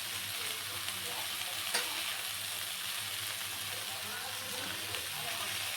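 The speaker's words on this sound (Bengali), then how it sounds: "এবার এগুলোকে ভালো করে নেড়ে চেড়ে নিই।" Chalta pickle with jaggery is stirred in a hot pan, giving a steady, dense sizzle with soft scraping from the stirring and one brief louder clack partway through.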